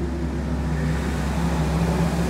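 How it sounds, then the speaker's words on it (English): A big truck rumbles past on a nearby road, a steady loud low engine drone with a sustained hum filling the whole stretch, no voices present. "there's a big truck passing by"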